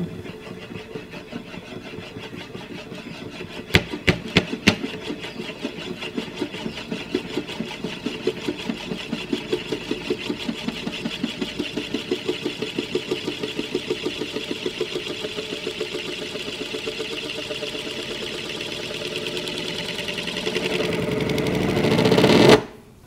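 Homemade Euler's disk spinning on a surface, a steady whirring rattle that holds at moderate loudness, then rises in pitch and intensity into a sharp buildup near the end before abruptly stopping.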